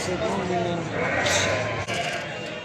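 Lambs bleat in short wavering cries close by at a sheep market in Beylagan, Azerbaijan, mixed with people talking over a busy outdoor background.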